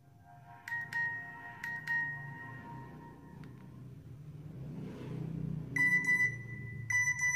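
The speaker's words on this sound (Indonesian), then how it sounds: "kita nostalgia juga buat nada SMS-nya." A Nokia E63 plays its SMS notification tone: bright, short electronic chimes that sound in a few quick bursts early on and return near the end, over a low steady rumble.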